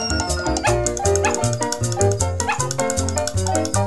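Cartoon dogs bark and yip in rapid, overlapping bursts, loud and busy throughout, with whimpering tones mixed in.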